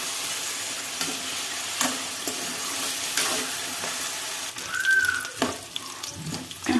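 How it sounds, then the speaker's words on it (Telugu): Potato pieces fry and sizzle steadily in oil in a pan while being stirred, with a continuous close hiss and occasional scraping clinks against the pan. "ఇప్పుడు దీంట్లో ఆలు వేసుకోవాలి. వేసుకున్న తర్వాత బాగా కలపాలండి."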